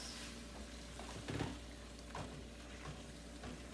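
Seasoned tomatoes for shakshuka simmer in a pan with a steady, soft sizzle and a few faint stirring clinks, no talk over it.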